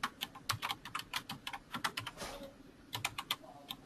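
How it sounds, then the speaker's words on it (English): Fast clattering keystrokes on a computer keyboard, close and crisp, coming in quick bursts with a short pause midway, no talking over them. "while Mike's typing"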